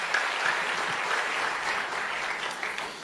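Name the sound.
church congregation applause for the worship team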